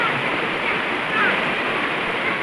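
Rushing, swollen floodwater during Typhoon Vicky in the Philippines, a loud, continuous broadband roar of flowing water filling the whole clip without pause.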